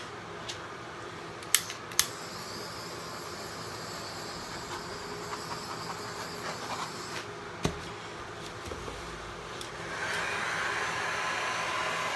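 An air blower pushes alcohol ink across a painting, giving a steady faint airy hiss with a few sharp clicks early on and a brighter, stronger rush of air near the end, no talking.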